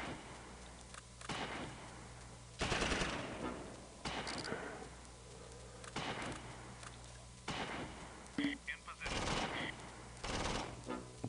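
Gunfire from Close Combat Invasion Normandy, a World War II game with Allied airborne troops against Fallschirmjäger, comes as repeated bursts of machine-gun and rifle fire at an irregular pace, moderately loud over a steady low background, with no talk.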